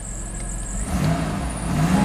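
An Oldsmobile Silhouette minivan engine runs steadily, no longer misfiring, with a low even hum close by and a slight rise midway.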